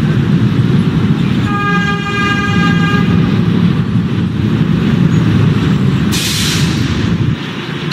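A D train pulls into a subway station, its horn sounding as a steady tone over loud, continuous rail rumble, with a hiss of air near the end.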